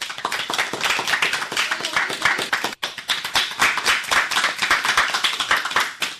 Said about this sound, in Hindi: एक बार फिर से जोरदार तालियों के साथ अपने साथियों का उत्साह बढ़ाइए।